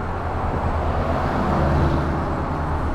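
Boost surging in a 1.6L turbodiesel car in fifth gear, a steady loud engine and road drone with low pulsing swells, no voices.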